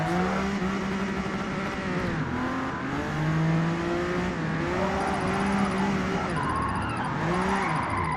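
Simulated Porsche engine revving and accelerating through the gears in the Forza racing game, a loud continuous whine rising and falling with shifts, with brief tyre squeal and no talking.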